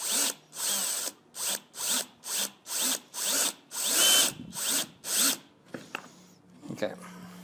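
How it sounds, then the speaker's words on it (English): A power drill bores into a plastic downspout catch basin in a series of about nine loud, close bursts with brief pauses between them, followed by quieter handling noises. "Of course, be careful, don't drill through your fingers."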